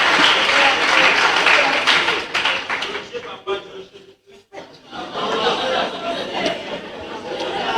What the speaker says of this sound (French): Vous méritez les applaudissements.